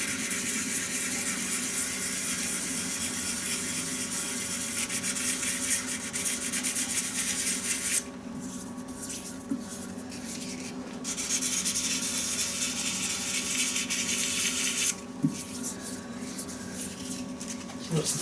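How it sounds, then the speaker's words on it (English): Sandpaper rubbing against a shaving brush handle spinning on a wood lathe, a steady broadband hiss over the lathe's constant hum, broken by short pauses and resuming at the same near, even level. "That's the final grit with the sandpaper up to 400."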